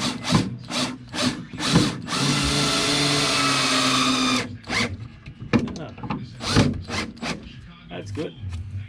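Power drill driving screws into wood for a camper base: a sustained drill whine of about two seconds, broken up by short bursts and knocks, with someone talking throughout.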